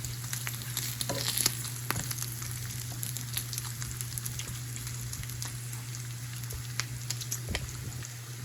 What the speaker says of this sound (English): I just like to keep flipping it because I don't like burnt bacon